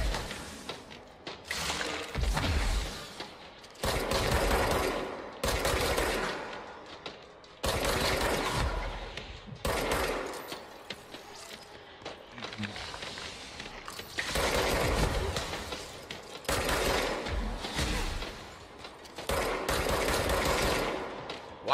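Video game gunfire comes in repeated bursts of rapid automatic shots, each lasting a second or two and separated by short quieter gaps, heard fairly loud with no talking.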